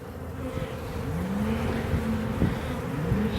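Honey bees buzz steadily around an open backyard beehive during a hive inspection, a dense, continuous close drone with individual bees whirring past near the listener, and no talking.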